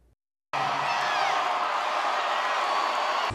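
A crowd of over 10,000 at an LSU gymnastics meet erupts into loud, sustained cheering and whooping after a moment of quiet, the roar holding strong and even until it cuts off.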